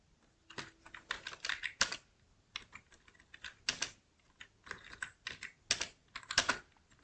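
Someone types C code on a computer keyboard, with close, crisp key clicks in quick uneven bursts separated by short pauses.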